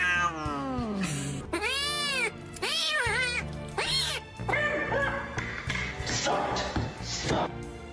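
A cat meows repeatedly during claw trimming, drawn-out rising and falling cries, some strained like caterwauls, close and loud, with light taps and handling noise between calls.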